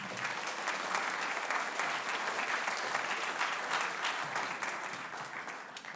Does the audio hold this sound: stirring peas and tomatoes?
no